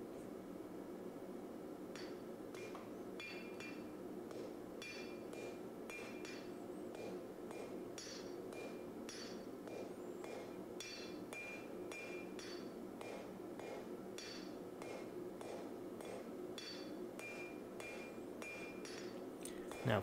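Hammer forging the tip of a Damascus steel knife blade made from a canister billet of 1080 and nickel powder, a long series of ringing metallic strikes at a steady rhythm, fairly faint and distant over a background roar.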